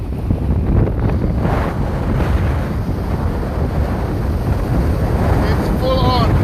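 A 40+ knot windstorm on the water roars and buffets the microphone with heavy, constant rumbling gusts and wave noise, loud and close throughout, with a brief voice near the end.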